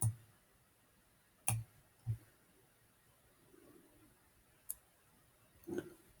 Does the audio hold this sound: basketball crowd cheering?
no